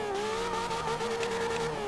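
A Ferrari LaFerrari slides in the racing game Forza Horizon 2. A sustained tonal tire squeal with a bending pitch rides over steady engine noise for about two seconds.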